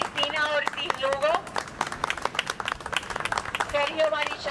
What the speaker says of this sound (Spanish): Así que pido un fuerte aplauso para Wanda de Jesús Arbelo, que está aquí.